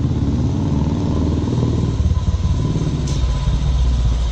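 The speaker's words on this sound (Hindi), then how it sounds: "अरे अरे, बाइक का आवाज़ आ रहा है।" A motorcycle arriving rumbles steadily up close, its low throbbing growl holding without letup.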